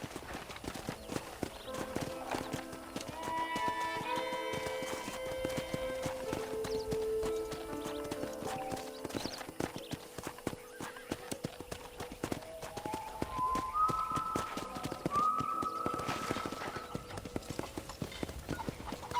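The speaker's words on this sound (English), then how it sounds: "I picked out a fine horse for you." Steady clip-clop of horse hooves trotting in the video game Red Dead Redemption, continuous and fairly close, with a soft musical background and occasional tonal chimes.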